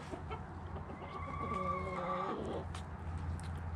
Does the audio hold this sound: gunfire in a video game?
no